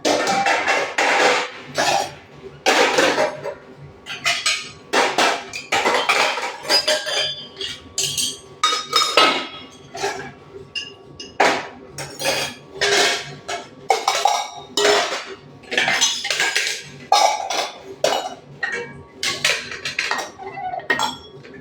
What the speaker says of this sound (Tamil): விளக்கி வச்சுருக்கிற பாத்திரம் எல்லாத்தையும் கவுத்தி விட்டுலாம்.